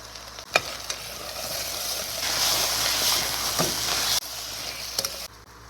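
Potatoes fry in a pan, giving a close, steady sizzle with occasional sharp clicks of stirring.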